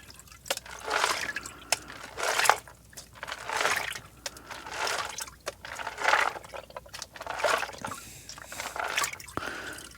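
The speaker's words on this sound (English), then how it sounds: "All right, let's pan this stuff." Gold pay dirt is swirled in a pan of water, making repeated sloshing washes and trickles in uneven waves, fairly faint and close, with no voices.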